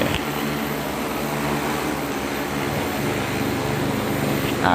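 An agricultural spraying drone flies back in to land, its propellers giving a steady, loud, continuous whir throughout with no talk.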